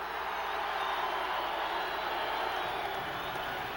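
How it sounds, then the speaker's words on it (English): Arena crowd noise at Madison Square Garden during the 1984 Big East Conference championship game, with Syracuse playing. A steady, dense wash of roar and cheering holds at an even level throughout, without breaks. "Listen to this crowd"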